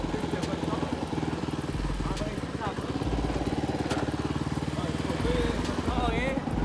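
A rebuilt motorcycle engine runs close by with a loud, uneven chugging idle and revving, as people talk over it.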